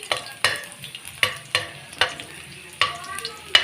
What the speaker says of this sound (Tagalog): saka naman natin nalagay itong bawang, garlic,